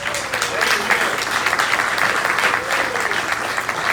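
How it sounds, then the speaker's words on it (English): Audience applause at a Republican club candidates' meeting for a retired county fire rescue captain, a full room clapping steadily with voices and a speaker's talk rising under and over it. "Hold your applause, because you're going to applause again."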